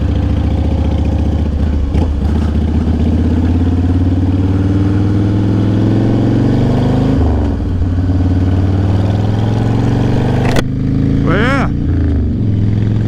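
A Harley-Davidson Fatboy with an older twin cam engine on a test ride, its deep loud rumble continuous and close, with pitch rising and falling as the rider accelerates and shifts, and brief talk near the end.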